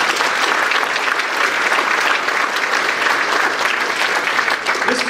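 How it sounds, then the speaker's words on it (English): A loud, dense round of applause fills the room at the Sacramento Region Innovation Awards, a steady crowd clapping continuously without pause. "huge round of applause for all the people being recognized today"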